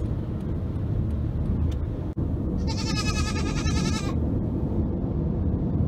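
A single high, wavering goat bleat rises over the constant rumble of a moving car's road noise.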